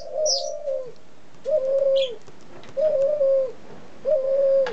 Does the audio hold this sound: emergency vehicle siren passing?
no